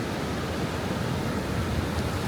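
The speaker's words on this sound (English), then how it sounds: "The waves are crashing so large out there." Large ocean waves crash and wash on a beach at low tide, a steady dense roar of surf with no voices, close and even in loudness.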